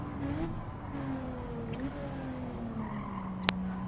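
Race car in Gran Turismo 7 on a brutal Tokyo East track, engine tone dropping steadily under hard braking with a sustained tire squeal and a sharp click near the end, steady and close.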